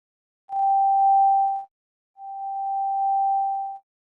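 A synthesizer plays a higher pure sine tone, sounding twice as steady sustained beeps with a short silence between, clear and isolated.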